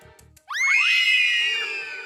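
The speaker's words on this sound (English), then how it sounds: "We hear screaming." A high, sustained scream rings out suddenly after a brief muffled bump, loud and close, echoing in a hotel at night before tapering slightly.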